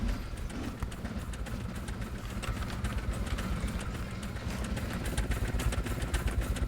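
A tractor engine runs steadily in the Scrap Mechanic building game, a continuous low rumbling drone with a fast rhythmic chug, close and even in loudness throughout, with no speech.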